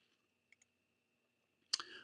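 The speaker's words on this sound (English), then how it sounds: "I'm right mouse clicking here" A computer mouse gives a few small, faint clicks, followed by a louder, sharper click near the end in an otherwise quiet setting.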